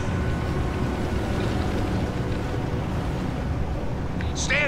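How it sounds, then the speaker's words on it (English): A Warthog military vehicle engine in the video game Halo Wars 2 hums in a steady, dense low rumble close by, broad and unchanging, with a short high electronic tone at the very end. "Warthog ready to rock. Listen to that engine purr."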